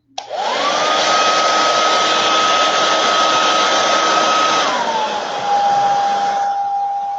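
A hair dryer drying gold paint blows steadily and loudly close by, with a constant whine that drops slightly in pitch partway through, no voices.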